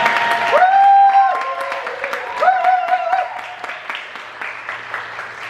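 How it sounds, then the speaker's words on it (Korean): An audience at a spring worship gathering applauds in a dense patter of clapping, with a few drawn-out vocal cheers rising above it early on before the applause thins out. "앞으로 모실 때 큰 박수"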